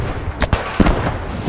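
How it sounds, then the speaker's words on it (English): Grenade explosions in the World War II shooter Post Scriptum: a few quick, sharp blasts and thuds in rapid succession over a dense, noisy battlefield background. "Grenades!"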